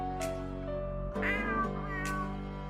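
A human voice imitates a cat, drawing out a few meows in a sing-song tone, each one stretched and wavering.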